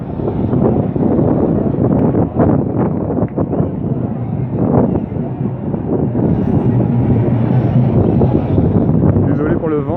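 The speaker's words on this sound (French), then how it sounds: "Désolé pour le vent, ça souffle un peu" Strong wind buffets the microphone outdoors at a peaceful march of women and children, a loud, continuous low rumble with gusting surges throughout, mixed with faint crowd sound and voices beneath.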